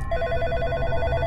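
A telephone rings in the horror video game In Sound Mind, a steady trilling electronic ring that repeats evenly over a low background hum, close and clear, with no voices.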